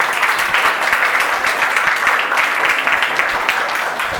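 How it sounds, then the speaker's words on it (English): Applause for the participants of a school English-week ad competition, dense steady clapping from a sizable indoor audience, loud and continuous throughout. "Big round of applause for all the participants."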